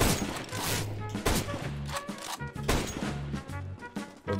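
Rapid bursts of video game gunfire in a first-person shooter, loud and close, crack in quick repeated volleys with short gaps across the whole stretch.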